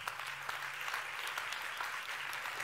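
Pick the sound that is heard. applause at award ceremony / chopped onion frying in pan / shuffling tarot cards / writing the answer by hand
applause at award ceremony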